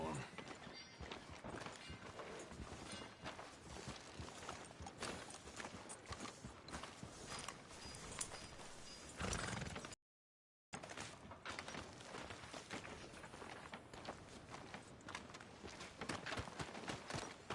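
A horse's hooves clip-clop steadily in Red Dead Redemption 2 as it walks along a town street, repeated close hoofbeats under character dialogue, with a brief dropout near the middle.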